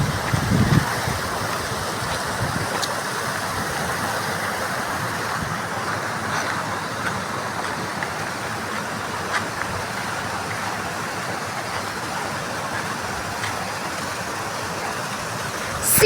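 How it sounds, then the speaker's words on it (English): Water pouring over a small dam into a natural water park in Hampi, a steady broadband rushing roar that stays constant and fairly loud, with no voices. "This is the mini dam where water flows into this water park."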